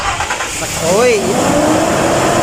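A car engine cranks and then catches after a fuel-supply fault is fixed, a brief rising whir settling into a steady running rumble up close, with a short exclamation from a man.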